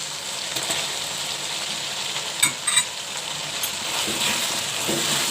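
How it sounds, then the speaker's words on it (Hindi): Diced tomato cubes fry and sizzle steadily in a pan with onions and masala, a continuous close hiss with a few brief stirring scrapes partway through. "और इन्हें अच्छी तरह इस मसाले को भूनेंगे"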